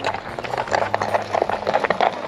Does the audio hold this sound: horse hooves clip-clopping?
yes